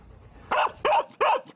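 Dogs at a crowded Fort Worth animal shelter bark three times in loud, sharp, evenly spaced bursts, close and echoing, with no talking.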